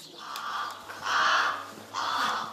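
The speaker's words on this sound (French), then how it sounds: "Eh oui, c'est un corbeau" Three harsh, drawn-out caws from a crow at a mountain nature reserve around 1000 metres altitude, each call loud and fairly close with short pauses between, over a faint steady low hum.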